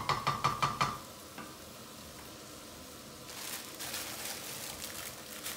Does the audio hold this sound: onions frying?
yes